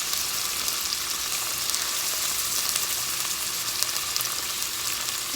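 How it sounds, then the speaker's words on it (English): Beef chunks for a stew browning in hot oil in a pan, a steady, loud, even sizzle that fills the whole stretch without any talking. "So all we're doing is just browning the meat"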